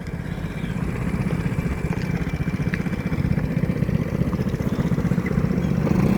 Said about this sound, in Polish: O, jakie jadą wespy, patrzcie się.